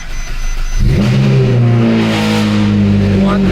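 Ferrari 458 Spider fitted with straight-pipe F1-style race exhaust headers fires up on a cold start, a sharp ignition burst followed by loud, rising revs that settle into a raw, harmonic-rich roar held close by.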